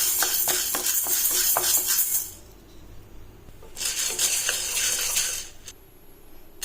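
Green gram dry-roasts in a pan over a medium flame. A spoon stirs it in two bursts of rattling, scraping grains and metal clinks, with a quieter pause between them.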